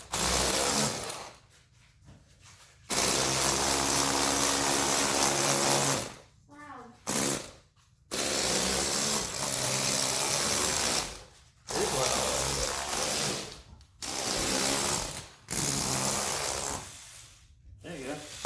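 A Lego Technic RC Stunt Racer drives across carpet, its electric motor whirring loudly in bursts that start and stop repeatedly, with short quiet gaps between runs.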